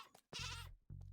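A baby goat in Minecraft bleats twice, a short wavering bleat then a second one after a brief pause, loud and close with no talk over it.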